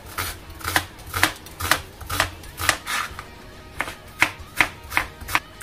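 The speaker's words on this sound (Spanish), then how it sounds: "Primero voy a cortar la cebolleta muy finita en juliana." A knife chops spring onion into thin julienne on a board, giving a steady series of crisp, close taps at roughly two per second with no talking.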